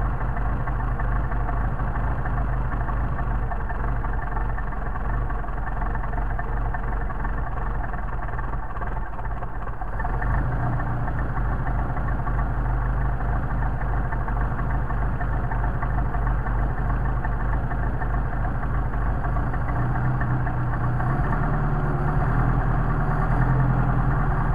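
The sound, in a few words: Mercedes 190SL engine idling with Solex carburetors, choke partially open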